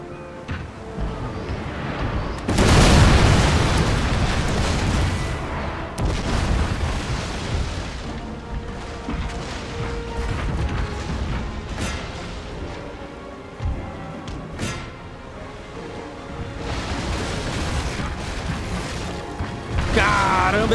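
Naval cannon fire in a Napoleonic-era sea battle from the strategy game Napoleon: Total War, with heavy booming volleys and rumbling explosions that repeat across the stretch over a constant battle din, while someone talks over it.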